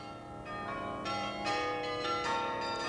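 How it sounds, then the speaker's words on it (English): A cam-driven carillon mechanism, pegs tripping levers, rings a set of differently tuned bells; several overlapping strikes land in turn, each leaving a long resonant shimmer that builds into a fairly loud, sustained chime with no voices. "You set the cams in like pegs to trip certain levers and ring certain bells."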